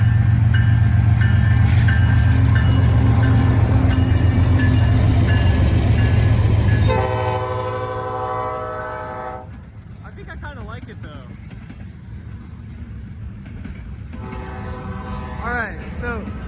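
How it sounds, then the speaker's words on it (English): Norfolk Southern freight train rolling past loudly with heavy rumble, its faulty horn blaring harsh and sour for several seconds before the cars clatter on at a steady, fading level. "you need to get your horn fixed. That sounds awful."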